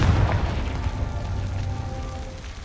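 A Confringo fire-blast spell from Hogwarts Legacy bursts with a loud, deep boom up front, then trails off into a crackling, rumbling decay over a couple of seconds.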